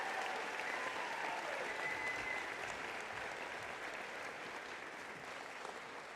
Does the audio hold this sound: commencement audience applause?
yes